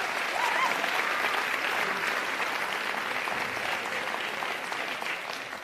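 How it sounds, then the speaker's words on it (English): An audience at a live theatre awards ceremony applauds steadily, a dense, sustained wash of clapping from a large crowd that stays loud throughout and eases off slightly at the end. "So a round of applause for all of you, please."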